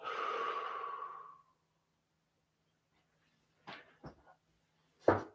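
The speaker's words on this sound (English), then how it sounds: "taking a full breath in and out" A full, slow breath drawn in and let out, soft and close, lasting over a second before quiet, followed by a few faint small sounds.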